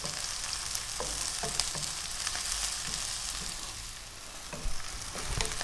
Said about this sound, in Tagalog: Lulutuin lang natin yung ating sibuyas